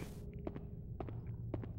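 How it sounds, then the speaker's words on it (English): Footsteps in the horror game Haunting Ground land in three evenly spaced pairs of soft, close thuds over a low ambient hum, with no talk. "You footsteps are already loud enough"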